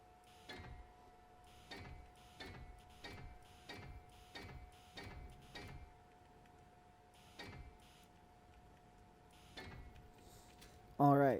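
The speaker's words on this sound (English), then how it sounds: "I'll continue welding this up." Welding in the video game Space Engineers comes through as a regular series of soft mechanical whooshing pulses over a steady tonal hum, moderately faint, with a brief burst of talk at the end.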